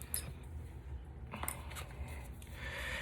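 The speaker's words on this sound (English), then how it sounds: "We're going to use our paper snips." Paper snips cut through stamped cardstock in a few short crisp snips, close and fairly quiet, with no voices over them.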